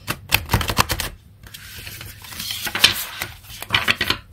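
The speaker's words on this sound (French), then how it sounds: "je galère un peu avec mes mains pour mélanger" Tarot cards shuffled by hand close up, a run of quick papery flicks and riffles, then a pause, then more bursts of shuffling with no talking.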